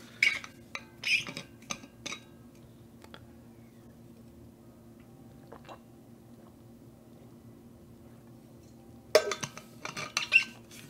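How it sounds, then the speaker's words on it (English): Glass or cup clinking with a couple of sharp taps and light knocks near the start, then quiet, then another cluster of clinks and rattles toward the end as water is poured and drunk. "I'll drink some water."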